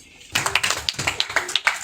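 Applause from an audience at a Lions Club installation ceremony, scattered individual claps starting suddenly and continuing irregularly, fairly close and modest in size.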